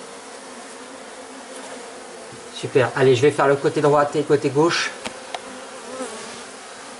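Honey bees rescued by vacuum buzz steadily near the microphone, a low drone heard throughout, while someone talks over it in the middle of the clip.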